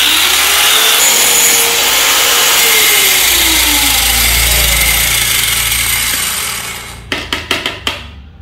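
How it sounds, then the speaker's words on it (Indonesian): An electric grinder cuts into a metal bicycle cone wrench with a loud, steady, close whine and shifting pitch as it bites, then winds down and gives way to a few sharp taps. "Ini langsung kita gerinda lagi."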